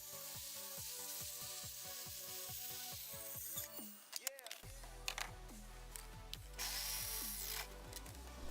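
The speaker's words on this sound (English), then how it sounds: "You can cut the rest of it out by just using a simple jigsaw." A jigsaw cuts wood while a cheap tablesaw is being built, a close, loud buzzing power-tool whine that drops and restarts partway through.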